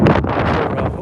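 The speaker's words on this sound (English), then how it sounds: "Oh, there's that wind." Wind gusting across a golf course fairway, a brief loud rumbling buffet against the microphone with a person speaking over it.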